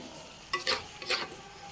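Duck meat being fried and stirred in a pan, a few quick scraping stirs and sizzling bursts against a quiet background.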